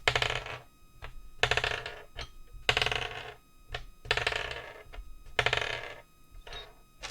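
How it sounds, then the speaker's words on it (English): Dice rolling during a tabletop game, several rattling bursts of clattering tumbles on a hard surface, repeated roughly every second or so, close and crisp with quiet gaps between. "There's a lot of dice rolling,"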